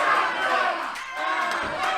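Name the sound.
wrestling crowd cheering wildly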